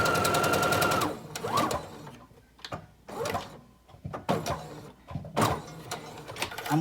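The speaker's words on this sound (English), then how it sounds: "going to take and sew my sides down." A sewing machine stitches down the sides of Ankara fabric in several short bursts of rapid whirring separated by pauses, close and moderately loud.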